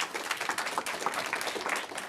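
Audience applause at an AI gathering held at Google in New York City: a short burst of many hands clapping, busy and uneven, moderately loud and filling the room.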